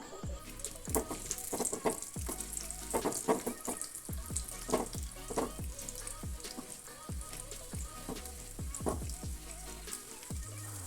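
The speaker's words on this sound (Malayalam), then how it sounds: "ചൂടായ എണ്ണയിലേക്ക് നമുക്ക് കുറച്ച് കഷ്ണിട്ടും മുന്തിരി ഇട്ട് കൊടുക്കാം എന്നിട്ട് നമുക്ക് നെയ്യിട്ടൊന്ന് വറുത്തെടുക്കാം" Steady crackling sizzle of cashews and raisins frying in hot ghee, with sharp pops and spatters throughout, close and fairly loud.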